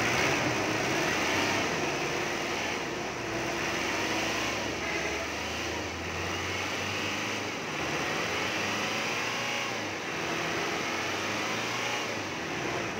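A 2008 Ford Everest turbo diesel engine runs at a steady idle, a continuous low mechanical drone with faint rhythmic knock, close by and without talk.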